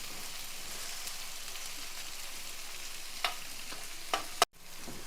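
Tomato, onion, ginger-garlic paste and garam masala frying briskly on a high flame, a steady close sizzle with a few sharp spatula clicks near the end.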